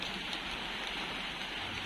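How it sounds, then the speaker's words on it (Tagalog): Steady rain falling outdoors at a home garden, a constant even hiss of drops with no pauses, moderately loud and heard alone without any voices. "umuulan na naman dito ngayon"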